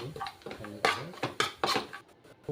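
A spoon clinks and scrapes against a pan while gram flour, onion and salt are stirred for a green chilli dish; there are several short, sharp metallic knocks in an uneven rhythm, close by.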